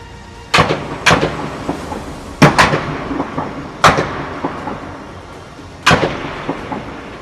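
Gunshots ring out amid fighting in Ukraine: five or six sharp reports in irregular bursts, some in quick pairs, each leaving a short echoing tail over steady background noise, no speech.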